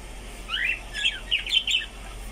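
Pet birds kept near ornamental fish tanks chirp in a few quick, bright bursts of tweets clustered together, moderately close over a quiet background hum, with no talking.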